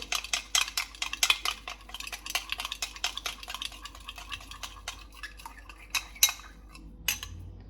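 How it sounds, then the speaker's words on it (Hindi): A spoon mixes an egg with a tablespoon of butter in a bowl, giving a quick, rapid run of close clinks and taps that slows toward the end, with no talking. "यहाँ पे मैंने एक अंडा ले लिया और उसमें एक खाने का चम्मच मैंने बटर डाल दिया। इसको अच्छी तरह मिक्स कर लेंगे।"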